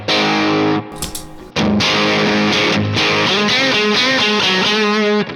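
Electric guitar through a NUX Amp Core Studio on a plexi-style overdrive tone, played loud and alone: a chord strike, a short gap, then sustained driven chords and melodic lines with a mid-pushed crunch.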